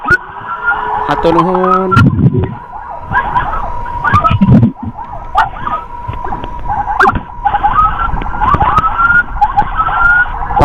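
Wailing ambulance siren rises and falls repeatedly at close range during a road escort in traffic, with horn blasts and a voice talking over a loudspeaker in between.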